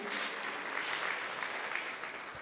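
Steady applause from a congregation in church, many hands clapping in a continuous, moderately faint wash throughout, with no speech over it.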